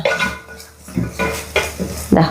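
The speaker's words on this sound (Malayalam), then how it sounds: "പൊടികളൊക്കെ ഇട്ടിട്ട് നമുക്ക് നന്നായിട്ടൊന്ന് ഇളക്കി കൊടുക്കാം." Sambar powder and spices being stirred in a pan, with a spoon scraping and clattering against the metal in close, repeated bursts.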